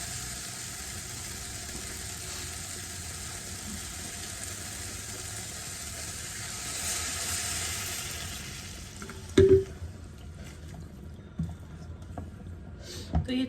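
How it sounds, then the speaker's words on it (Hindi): Water is poured into a pan of sautéed, fried vegetables on a home stove, a steady sizzling wash that sharpens into brief louder splashes and bubbling near the end, heard close up with no talking. "तो इसमें डालते हैं अब हम पानी"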